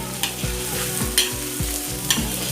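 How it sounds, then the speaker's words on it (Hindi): Onions and green chillies fry in a karahi for mutton kaleji salan, a steady close sizzle broken by repeated scraping stirs of a spoon against the pan, with no talking. "ये सब चीज़ों को हम फ्राई करेंगे।"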